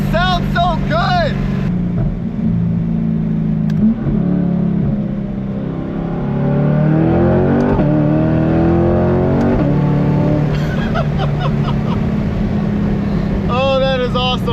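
Deep, steady exhaust rumble of a catless C8 Corvette running a Paragon titanium exhaust, heard from inside the cabin while driving, with a brief rise in pitch midway and excited voices at the start and end.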